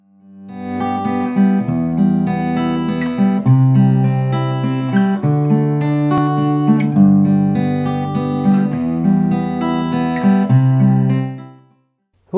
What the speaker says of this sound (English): What you just heard there was an example of a waltzy 3/4 fingerstyle pattern.